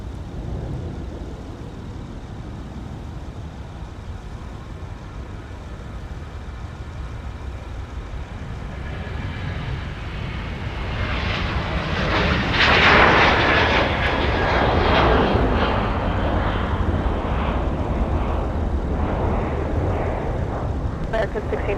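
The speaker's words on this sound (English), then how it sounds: "here's American on the roll, departing 30 left." American Airlines jet on its takeoff roll on runway 30 left at Minneapolis–St. Paul in winter, a steady distant rumble that swells into a loud, broad engine roar about halfway through and stays strong to the end.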